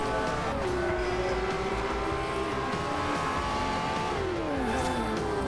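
A race car in the Forza Horizon video game accelerates hard in its Corsa track mode, the engine note climbing through the gears with rising pitch and gear-change dips, loud and continuous with no talking.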